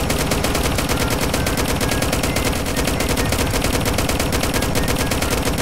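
Rapid sustained gunfire in a video game, shots striking around a military Humvee in dense machine-gun bursts that keep up a loud continuous rattle with no gaps.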